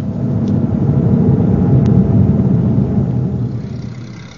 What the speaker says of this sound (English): Blimey, Jonesy, can't you get this old van of yours to go any faster?